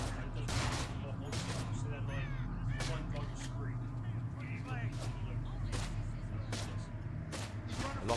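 Faint gunfire in Manhunt 2 on PS2 hits the player as repeated sharp cracks spaced across the span, quiet and under people talking.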